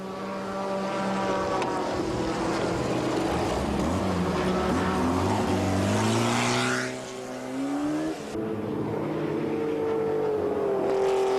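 Small-displacement race cars compete in the Les 2 Tours d'Horloge 1995 race, their engines droning loudly and continuously with a rising and falling pitch as cars pass close by, without voices.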